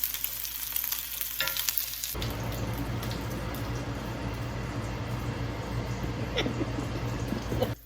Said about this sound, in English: I'm just going to brown them up just to give them a little bit of color.